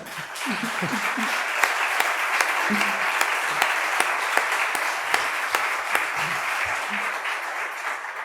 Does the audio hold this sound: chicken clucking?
no